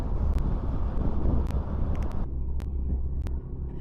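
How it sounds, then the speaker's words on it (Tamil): Strong wind roars and buffets a helmet or action camera microphone on a motorcycle ride past swaying trees, a loud, rumbling low-frequency rush with sharp clicks, easing noticeably partway through as noise cancelling cuts in. "நல்லாவே காற்றடிக்குது"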